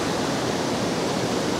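Storm-swollen sea surf rolls onto the central beach at Anapa, a dense, loud, unbroken roar of breaking water that fills the whole moment without pauses or voices.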